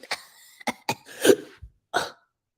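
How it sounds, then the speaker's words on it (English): A single sharp hiccup comes first, then a few short bursts of coughing and throat noise with quiet gaps between them. "I had a hiccup and a cough at the same time"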